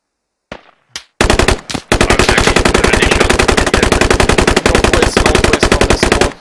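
Gunfire in the tactical shooter Squad: a few scattered shots, then long sustained automatic bursts firing in rapid, even rhythm, loud and close, filling most of the clip without talk.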